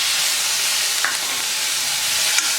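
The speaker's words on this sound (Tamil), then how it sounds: "நல்லா வதங்குற வரைக்கும் வதக்கி விடுங்க." Tomatoes with asafoetida and curry leaves fry in a pan while being stirred, giving a steady loud sizzling hiss with a couple of faint scraping touches.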